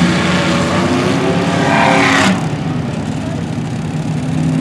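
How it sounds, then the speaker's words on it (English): Race car engine roaring loud and close as it runs a lap on a track, a steady high-revving drone that drops in pitch and fades slightly partway through, with no talk over it. "one lap to go for Jimmy Lee."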